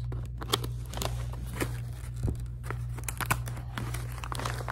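Scissors snipping and crinkling through the cardboard and plastic packaging of an iPhone 3GS box, a steady series of close, sharp cuts and rustles with no talking.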